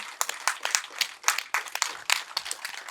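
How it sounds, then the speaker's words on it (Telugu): An audience applauds at a film event, a dense, steady patter of many hands clapping, close and fairly loud, with no speech over it. "కొట్టాలి చప్పట్లు."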